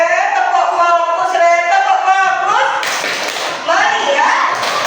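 Third-grade schoolchildren in a classroom perform a rhythmic 'tepuk fokus' focus clap, their patterned claps and taps mixed with loud group chanting voices throughout.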